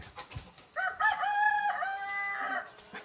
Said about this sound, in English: Sorry about the cockerel